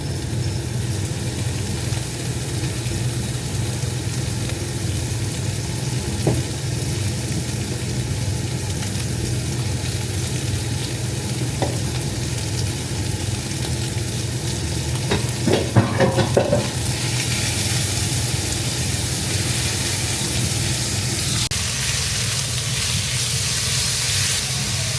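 Ginataang sitaw at kalabasa cooks in a pan, giving a steady close sizzle with stirring. A brief cluster of scraping clatter rises near the middle.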